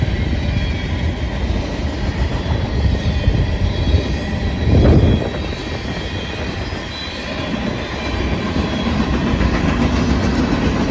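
A train rumbles past for several seconds with a continuous rattling clatter and a brief louder surge midway. No voices are heard.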